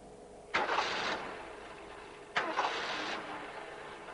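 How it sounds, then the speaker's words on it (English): A car engine that is failing gives two short, rough bursts of noise separated by a pause, each breaking off abruptly in an otherwise quiet scene. "all of a sudden the engine started to quit"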